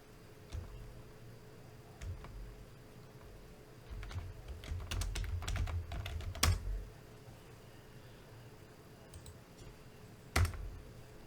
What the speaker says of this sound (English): We're going to type in device manager.